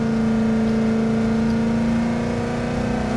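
A Chevrolet Camaro SS on a track lap, its engine droning loud and steady from inside the car with a strong tonal hum that holds under sustained throttle.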